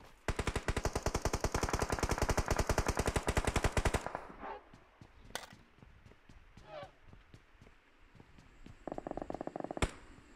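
Rapid automatic gunfire rattles continuously in PUBG Mobile for several seconds, then gives way to scattered single shots and a later short burst, with game ambience and a faint voice in between.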